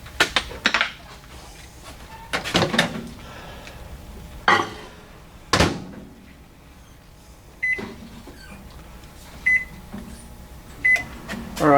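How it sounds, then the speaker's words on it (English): A microwave oven hums quietly while scattered clunks, clicks and a few short beeps sound nearby during a plastic injection molding session, with no talking. "microwave's going."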